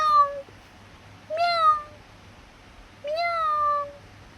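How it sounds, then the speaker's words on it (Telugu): A domestic cat meows three times, each call rising then falling, close and clear, separated by short pauses in a quiet indoor room with no talking. "ఇది ఫ్రెండ్స్ మా పిల్లి కథ."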